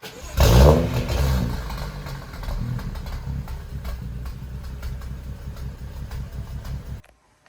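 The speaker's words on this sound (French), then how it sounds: "premier démarrage sans intermédiaire" A BMW M135i's engine fires up with a loud burst on its first start, then settles into a steady, strong revving drone that holds until it cuts off abruptly near the end.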